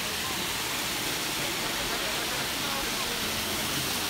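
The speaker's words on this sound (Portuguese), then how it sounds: "E tem ali uma grande cascata." A large waterfall on the Rio Mau in Portugal's Douro region gives a dense, steady, loud rushing roar from nearby, with a voice partly audible under it.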